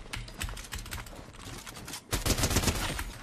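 Rapid gunfire crackles in a Fortnite match, with clusters of sharp repeated shots in bursts, a brief lull, then a denser, louder volley near the end.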